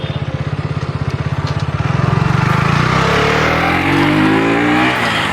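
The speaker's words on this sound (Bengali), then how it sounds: "ও টান দেখো কেটিএমের।" A KTM motorcycle revving up from a low, pulsing idle to a rising engine roar as it accelerates, loud and close, with the pitch climbing steadily over a few seconds.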